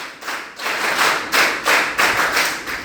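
Audience clapping together in a rhythmic 1-2, 1-2-3 pattern: bursts of hand claps grouped in short repeating phrases, fairly close and uniform, with no talking over them.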